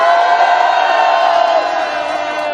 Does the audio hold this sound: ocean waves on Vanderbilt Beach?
no